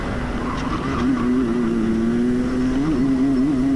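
Race car engine at full throttle during a heat at the Newcastle Special Race Event, a loud continuous near drone with a steady pitch that wavers slightly as the driver works the throttle, no voices.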